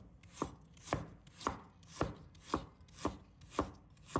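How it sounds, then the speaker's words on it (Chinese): A knife slices ginger on a cutting board in eight crisp, evenly spaced chops, close and distinct, with no talking. "再准备1块生姜， 把它切成片"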